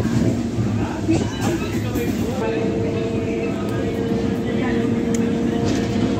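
A superfast express train rumbles past near an MMTS line between Lingampalli and Secunderabad, a steady loud roar of wheels and carriages with a faint horn-like tone, heard from a moving train with talk underneath.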